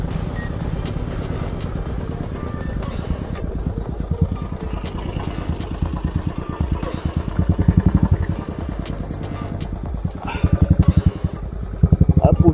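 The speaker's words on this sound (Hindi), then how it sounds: "सब बाइकर्स गए हमारे, अभी बाइकर्स गए हमारे।" A group of motorcycles rides past on a road, their engines rattling and throbbing in rapid pulses that swell louder several times as bikes pass close.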